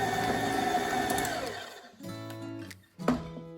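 An electric mixer beats butter and sugar for red velvet cookie dough, a loud, steady motor whir with rattling that winds down and stops, followed by a few quiet clunks.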